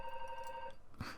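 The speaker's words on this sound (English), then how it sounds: "That's a phone ringing." A telephone rings with a steady electronic tone in the background of an indoor recording. The ring stops partway through and a soft bump follows, with no one speaking.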